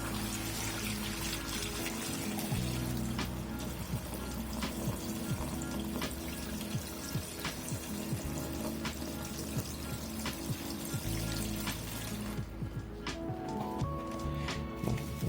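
Water pours steadily into a small 8-litre planted aquarium set up with substrate, a continuous splashing trickle that runs for the whole stretch, close and fairly loud, with no talking over it.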